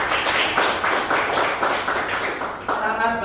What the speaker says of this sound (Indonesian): Tepuk tangan buat Ibu.